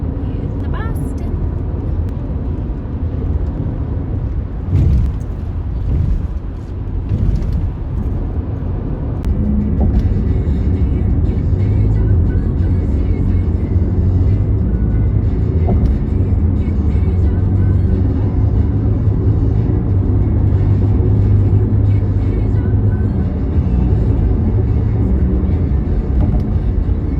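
Car driving on roads around Boston, Massachusetts, a steady loud low engine and road rumble filling the whole stretch with a few knocks and bumps, no clear talk over it.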